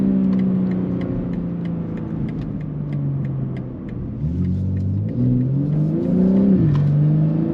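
A modified 500hp BMW G80 M3 engine rumbles at idle and then revs up in a few rising and falling pulls, heard fairly close and loud with a steady low drone underneath.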